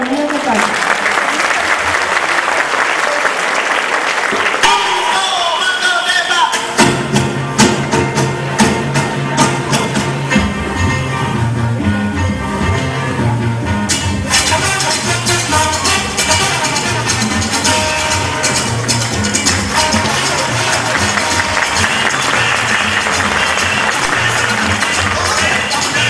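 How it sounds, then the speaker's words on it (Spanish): A crowd claps steadily for a long stretch at a children's dance festival, dense applause continuing throughout, with music and voices mixed in beneath it. "Un fuerte aplauso para los niños de casa."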